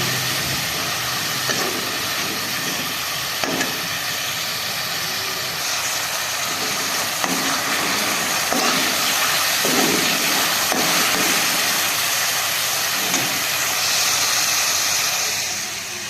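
Onions sizzle loudly in hot oil in a pan after fried goat liver has been removed, a steady broadband hiss and crackle throughout with occasional pops, close and unbroken.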